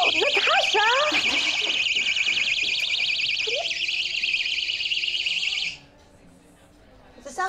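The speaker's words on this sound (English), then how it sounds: "It's a self-defense alarm." A personal self-defense alarm shrieks loudly and continuously with a rapidly warbling high-pitched tone for several seconds, then cuts off abruptly, while people shout and talk beneath it.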